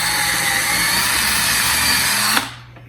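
A power drill bores into a wooden garage ceiling joist with a loud, steady whine for a couple of seconds before cutting off abruptly and spinning down.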